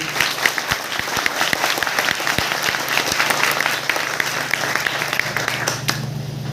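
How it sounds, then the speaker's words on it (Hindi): An audience claps loudly and continuously, a dense close wash of applause that keeps up throughout and cuts off abruptly near the end. "ताली बजा दीजिए उसकी"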